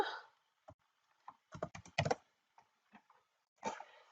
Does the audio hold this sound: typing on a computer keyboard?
yes